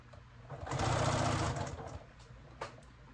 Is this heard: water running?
no